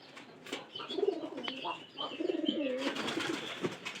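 Pigeons coo in a pigeon house, a newly paired couple settling into their loft, giving repeated low throaty coos in overlapping rolls that carry on steadily throughout, close and moderately loud.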